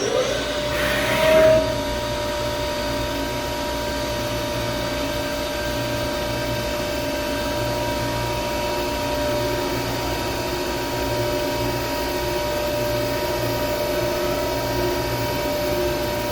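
A milling machine cuts a powered fishing reel body with a 3/4 inch three-flute carbide end mill at about 3,500 RPM, giving a steady, moderately loud hum and whir that runs unbroken throughout after a brief bump at the start.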